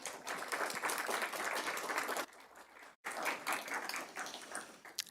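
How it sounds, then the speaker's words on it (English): Audience applause at a city's annual state-of-the-city address, a broad wash of many hands clapping, steady and fairly distant, with a brief dip midway before it resumes. "I'd like us to give a big round of applause to South San Francisco Scavenger Company"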